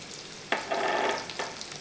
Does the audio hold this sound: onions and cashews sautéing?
yes